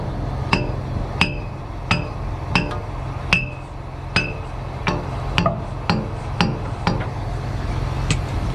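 Hammer blows while mud cups are replaced on a concrete boom pump: about fourteen sharp, ringing metallic strikes at a steady, slightly uneven pace, close and distinct over a low background hum.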